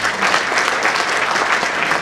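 A crowd claps steadily and densely for a couple of seconds, a full room of applause with no voices over it.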